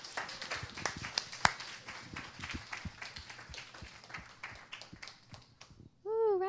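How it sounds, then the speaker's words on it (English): Applause from an audience thanking panel speakers at a community wellness event, a dense, steady patter of many hands with a few sharp claps, fading out near the end as a brief whoop rises. "Can we get a huge round of applause for our speakers?"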